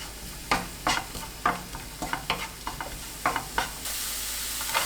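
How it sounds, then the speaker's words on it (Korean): Minced garlic and green onion stir-fried in two tablespoons of cooking oil over high heat, a spatula scraping the pan in quick irregular strokes above a soft sizzle that swells into a louder hiss near the end, close and without speech. "식용유 2큰술, 다진 마늘 반 스푼, 파 넣고 센 불로 20초 볶습니다"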